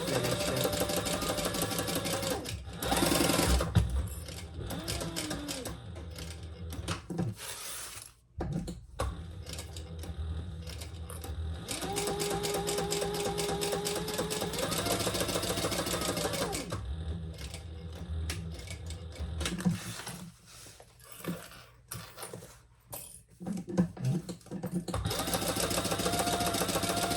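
A sewing machine stitches the seam of a small sling bag in long rapid mechanical runs of ticking needle strokes, stopping and restarting with short pauses and brief handling sounds between bursts.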